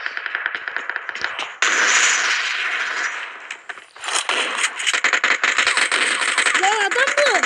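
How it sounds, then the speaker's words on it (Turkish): Gunfire in a video game crackles in dense bursts and rapid volleys, loud and close, running through most of the stretch with a brief lull midway, while players talk over it. "Bir sürü silah sesi var."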